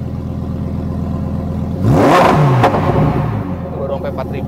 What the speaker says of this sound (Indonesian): Sekarang kita coba gas lagi.